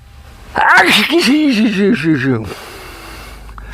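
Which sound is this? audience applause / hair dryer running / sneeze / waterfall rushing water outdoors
sneeze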